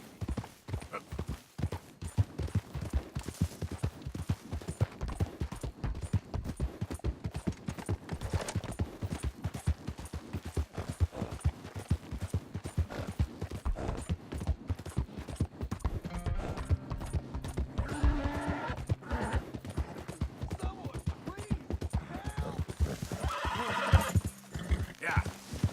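Horse hooves clip-clop continuously in Red Dead Redemption 2, with whinnies and neighs rising near the end, while voices talk throughout.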